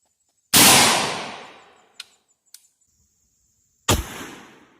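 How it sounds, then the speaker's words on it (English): Two loud, sharp rifle shots from a rifle fed by a GI steel STANAG magazine, about three seconds apart, each with a long decaying echo, plus two small clicks in between. "here we go shooting the GI Steel mag"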